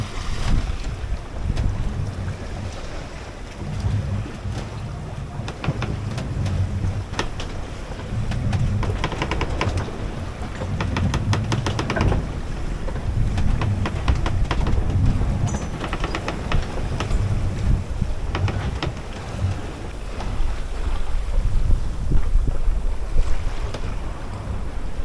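A sailboat runs downwind in roughly 18 knots of breeze on the quarter, with a steady, close rush of wind buffeting the microphone and water surging along the hull throughout, no voices.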